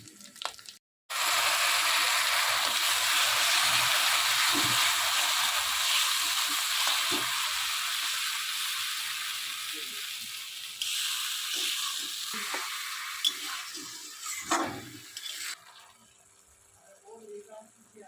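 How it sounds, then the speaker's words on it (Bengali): Tomato and cashew paste drops into hot oil with fried onion, ginger and garlic, bursting into a loud close sizzle that slowly fades, with stirring clatter near the end. "পেঁয়াজ আর আদা রসুন একসাথে ভালো করে তেলের উপর ভেজে নিয়েছি এবার দিয়ে দেব টমেটো আর কাজু পেস্ট"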